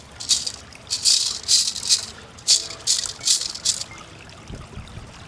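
Packed clay gravel is pulled and scraped from under bedrock in the Chattahoochee River, giving a series of close, loud gritty rattles in uneven bursts over faint water.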